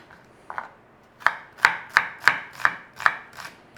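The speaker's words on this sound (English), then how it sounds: "We got a little bit of red onion here. We want some diced red onion." Red onion being diced with a kitchen knife on a board: a few soft taps, then about eight crisp, evenly spaced chops, close and clear with no talk.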